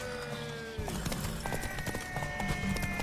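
Rhythmic hoofbeats of a galloping horse clatter steadily, with a brief whinny at the start and game music playing underneath.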